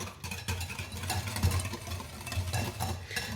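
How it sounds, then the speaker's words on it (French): Cake batter for a soft coconut cake with a coconut centre is stirred in a mixing bowl with a whisk, giving a steady, continuous swishing and scraping close by, with no talking. "On mélange."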